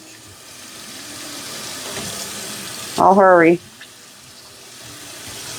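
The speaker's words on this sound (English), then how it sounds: "Run some hot water over it." Hot water runs from a kitchen tap in a steady, soft rush that continues throughout, while a voice speaks briefly over it.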